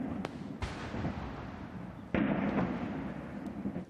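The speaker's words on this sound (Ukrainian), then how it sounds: "На дворі на честь імператора влаштовують гарматний салют." Several booming blasts of a ceremonial cannon salute ring out at intervals, one heavier than the rest, echoing outdoors against a low rumbling background.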